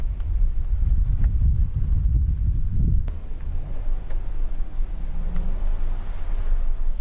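A car rolls slowly past a campsite as a heavy, close low rumble for about three seconds, then falls away to a faint hum, with wind buffeting the microphone throughout.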